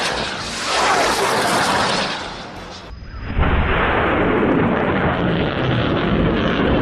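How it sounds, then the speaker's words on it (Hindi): Hamas fighters fire 114 mm rockets from a launcher: a loud, sustained rushing roar fills the clip, dipping briefly before a second harsh whooshing blast that carries on to the end. "वीडियो में साफ दिख रहा है कि कैसे हमास के लड़ाके पहले तो रॉकेट्स को लॉन्चर में फिट कर रहे हैं, उसके बाद उनको फायर कर देते हैं।"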